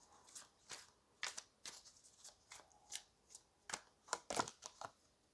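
Tarot cards are shuffled and drawn in a quiet room, with repeated soft riffling snaps and flicks coming in an uneven rhythm, close and faint, without speech.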